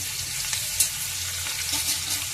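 Sliced onions and green chillies sizzle in hot oil in a pan alongside fried dried fish, a steady close hiss of frying with light stirring scrapes and no talk.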